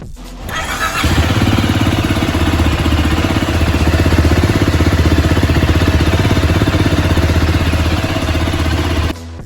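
A Zontes 350T motorcycle with a double-barrel exhaust starts up and settles into a steady, loud, close idle, its engine pulsing evenly throughout.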